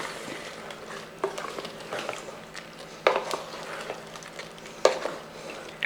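Ground coconut being stirred into simmering chicken gravy for a Kerala-style dish, with soft scraping and sloshing strokes over a low steady bubble and a few sharper utensil knocks against the pot, close by and without talk.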